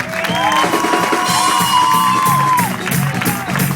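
A live audience claps and cheers for the drummer at a Sicilian band's concert, a dense burst of applause and whoops running throughout beneath sustained musical tones.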